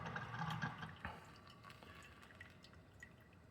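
An xBloom Studio pour-over coffee maker trickles water in a quiet pour, with soft drips and a light splash early before the flow fades to faint dribbling.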